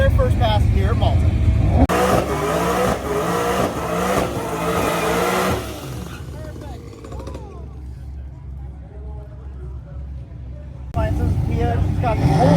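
A race car's engine revs hard and roars past at Malta during race week, then fades away into a quieter stretch before another burst of engine noise returns.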